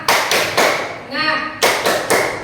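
A group of students claps the rhythmic Indonesian tepuk semangat clapping game, sharp sets of hand claps in quick bursts separated by brief pauses, loud and close, with a voice chanting between the claps.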